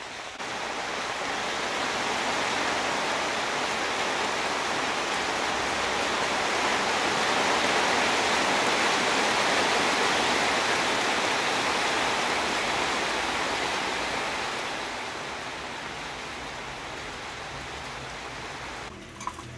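Steady rain falls outside, a dense, even hiss lasting the whole time, swelling slightly in the middle and easing toward the end, with a small knock just before it ends.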